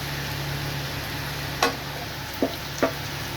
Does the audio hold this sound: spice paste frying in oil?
yes